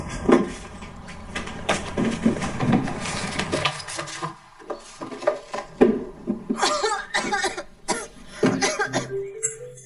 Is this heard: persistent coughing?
yes